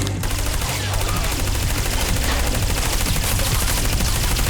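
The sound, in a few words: gunfire in video game Trials of the Blood Dragon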